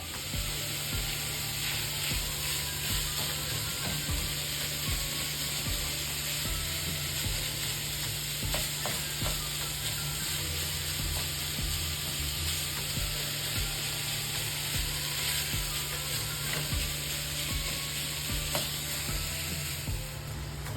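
Sausage fries in oil in a pan with a loud, steady, dense sizzle and crackle that continues throughout without pause.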